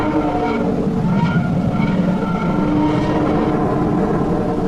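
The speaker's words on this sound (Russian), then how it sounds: "Это звуки звездного ветра." Sonified stellar wind: a dense, roaring rumble with wavering tones and breathy noise, continuous and loud throughout, like wind through machinery.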